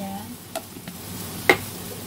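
Two seasoned eggs fry in a pan while cooking a siomak stir-fry, with a faint sizzle broken by a few sharp pops and clicks, the loudest near the end.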